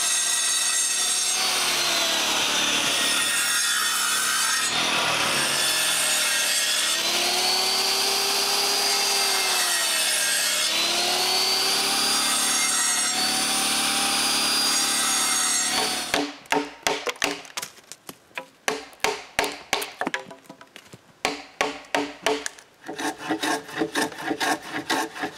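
A handsaw cuts notches into wooden rafters for a cottage woodshed, loud, close back-and-forth strokes whose pitch rises and falls, then a run of quicker choppy strokes.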